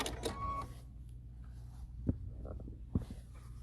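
A home sewing machine stitches a quarter-inch seam along half of a fabric circle for a braided-twist project: a quiet, steady low motor hum with a couple of soft mechanical clicks, and no talking.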